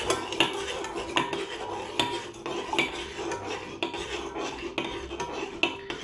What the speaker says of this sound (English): take 2 big egg yolks and mix them in